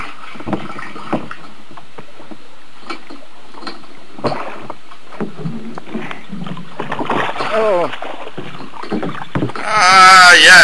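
Oars knock and water splashes irregularly as a small boat is rowed, with scattered voices nearby and a burst of wind noise near the end.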